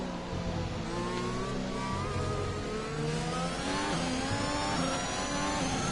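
A Formula 1 car with a Renault engine in F1 2021 on the Japan circuit howls loudly as it accelerates, its revs climbing and dropping through gear changes in a continuous close-up roar.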